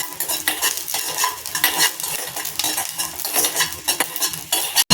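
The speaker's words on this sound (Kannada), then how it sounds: "ಬೆಳ್ಳುಳ್ಳಿಗೆ ಒಂದು ಅರ್ಧ ಸ್ಪೂನಷ್ಟು ಎಣ್ಣೆ ಹಾಕ್ತಿದ್ದೀನಿ ಫ್ರೆಂಡ್ಸ್ ಈಗ ಚೆನ್ನಾಗಿ ಫ್ರೈ ಆಗುತ್ತೆ" Garlic fries in about half a spoon of oil with a close, bright sizzle while a spoon keeps scraping and stirring through the pan in quick, uneven strokes, with no voices.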